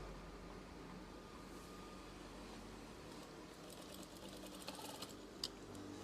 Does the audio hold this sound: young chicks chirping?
no